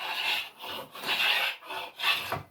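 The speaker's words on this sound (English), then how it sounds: "I'm trying to take a cleanup stroke off this flat side." A hand tool takes repeated cleanup strokes along the flat side of a wooden chair part, each a broad rasping rub lasting about half a second, four or five strokes close and fairly loud with no talk.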